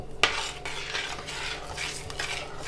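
A spoon scrapes and stirs through thick apple and raspberry jam in a pot, with a sharp clink near the start and soft continuous swishing throughout.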